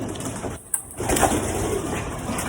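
Pigeons in a loft at feeding coo softly and shuffle about nearby, a brief sharp knock or flutter early on, then steady murmuring calls and rustling continue.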